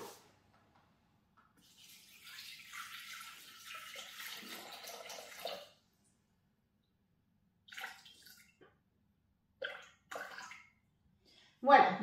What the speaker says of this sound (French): on va commencer la recette et on va mettre nos 300 g d'eau